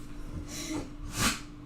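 Two quick breathy bursts, the second sharper and louder, like a small sneeze, close and faint.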